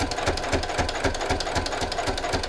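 A sewing machine with a walking foot quilts a straight line on a fall table runner, a steady, loud, rapid rhythmic stitching that runs continuously throughout.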